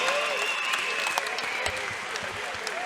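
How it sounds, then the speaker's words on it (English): Crowd applause at a Muay Thai fight night, greeting two young fighters aged 14 and 15 in the ring. Dense, steady clapping and cheering fills the space continuously, with a few whistles rising above it and some voices mixed in. "please give the future of Muay Thai in this ring a huge round of applause"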